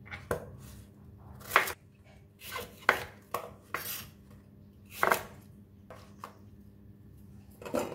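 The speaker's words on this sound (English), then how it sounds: "Cut guava into smaller pieces so that it fits into the juicer." A knife chops guava into small pieces on a board, giving a quiet series of irregular, crisp cuts and taps close by, with no speech.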